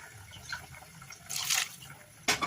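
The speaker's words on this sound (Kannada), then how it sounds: "ಆಮೇಲೆ ನೀರು ಹಾಕ್ಕೊತಾ ಇದ್ದೀನಿ" Water splashes into a pot of fenugreek-leaf sambar in two short pours, the second sharper and louder, against a faint quiet kitchen background.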